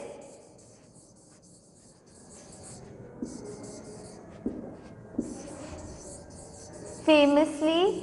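Pen or pencil writing on paper while a question is written out over a text passage, soft scratchy strokes in short bursts, faint and close, with a voice speaking near the end.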